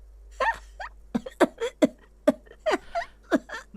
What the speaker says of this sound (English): The cleaning lady starts laughing, but it turns into a violent coughing spasm.